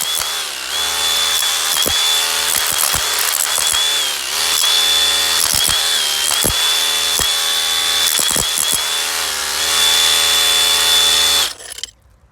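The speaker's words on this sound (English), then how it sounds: "So I just put a chisel bit in my SDS hammer and switched it to jackhammer mode." SDS hammer drill fitted with a chisel bit in jackhammer mode, chipping material off a house wall: loud, sustained rapid hammering with a steady motor whine, interrupted by short bursts, then stopping near the end.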